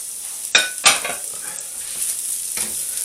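Peppers and onion go into a hot pan with bacon for a beef and chicken stir fry. They land with two sharp bursts of sizzle, then fry in a steady crackle, with a further stirring scrape near the end.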